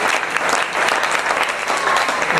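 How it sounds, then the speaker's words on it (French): Congregation in a church applauding loudly and steadily, a dense wash of clapping with some crowd murmur, lasting throughout. "Est-ce qu'on peut acclamer vous pour vous-même?"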